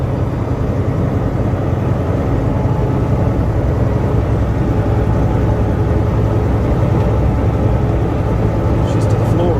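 An RV hauler truck climbs a hill at full throttle with the turbo working, giving a steady, loud low-pitched engine drone and whir that holds for the whole stretch, with voices speaking over it.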